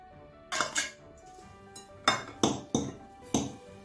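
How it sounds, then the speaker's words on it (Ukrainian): A fork clinks sharply against a bowl while mashing canned tuna into eggs, with about six distinct metallic strikes in an uneven rhythm, close and clear with no voices. "подрібнюємо виделочку і додаємо крем-сир"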